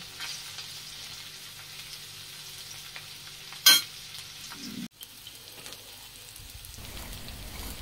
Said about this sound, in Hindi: अभी हम इसे हाई फ्लेम पर भूनेंगे, बिल्कुल भून करके, और ब्राउन ब्राउन सी कर लेंगे इसे।